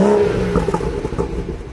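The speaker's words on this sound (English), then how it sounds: "some nice bubbling there from the exhaust" A 2016 BMW 340i M Sport engine revs up and settles into a low, burbling exhaust rumble with a few crackling pops, close by and fairly loud.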